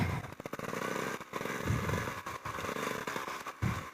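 A trials bike is ridden at low speed, its engine a faint, uneven putter with small revs and clattering, recorded quietly at some distance.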